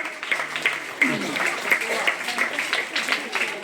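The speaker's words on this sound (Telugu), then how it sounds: "మా క్లాప్స్ అభినందించండి అమ్మా" An audience claps at a school annual day celebration at a zilla parishad high school in a village, a steady patter of applause that goes on throughout. A voice speaks over it.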